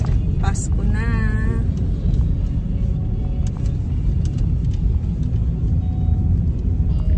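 Heavy road traffic heard from inside a moving vehicle in rain and heat, a constant low rumble of engines and tyres with a brief higher whine early on.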